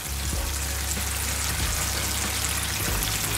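Soy sauce, oyster sauce, ginger and honey boil hard in a pan over high heat, giving a steady, close bubbling sizzle with dense crackle that holds at the same level throughout, with no voices.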